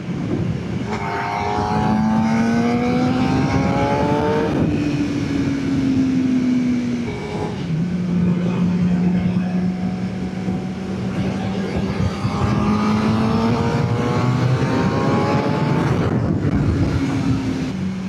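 Suzuki GSX-R600 sport motorcycle riding, its engine revving up and down through rising gear pulls with steady wind rush, loud and close throughout.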